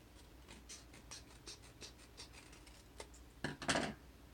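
Scissors cut out a paper planner dashboard at close range, a quiet series of short snips and paper rustles in an uneven rhythm, with a louder burst of handling near the end.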